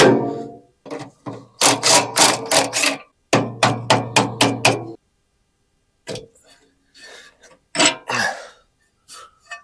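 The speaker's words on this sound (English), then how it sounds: "now we can take the bolts out for the axle" A mobile home axle bolt is hammered out with a block of wood held behind it, giving loud, close metallic blows in quick bursts with short pauses and brief talk between.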